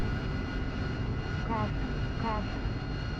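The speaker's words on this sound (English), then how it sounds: "Right, let's get our engine started a bit." A jet aircraft engine starts up in the DCS World flight simulator, heard as a steady, loud broadband roar and whine inside the cockpit, with a couple of brief chirps over the top.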